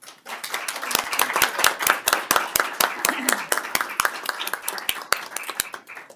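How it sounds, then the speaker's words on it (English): A small round of applause in a Senate committee room on natural resources: a modest group clapping, individual sharp claps clearly separable, steady for about six seconds before tapering at the end. "hope that everybody will join me in giving her a little round of applause"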